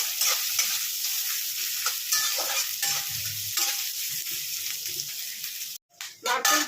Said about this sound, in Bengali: আমি যে নারকেলগুলো ছোট ছোট করে কেটে রেখেছিলাম সেই নারকেলগুলো আমি তেলের মধ্যে দিয়ে দিলাম